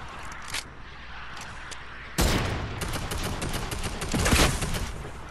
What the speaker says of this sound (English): Keep shooting, keep shooting.